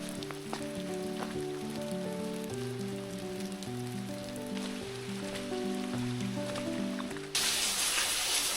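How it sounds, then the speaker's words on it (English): Steady rain patters on a surface around a van in the Lake District, a soft continuous hiss that swells louder near the end, with gentle tonal music playing underneath. "It's so funny how Otto doesn't even mind the rain"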